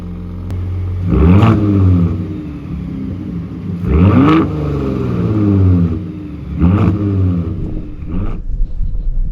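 A Ford F-150 Raptor's turbocharged engine revving in three or four separate loud bursts, each rising sharply and falling away, with turbo whoosh and rumble between pulses, close by.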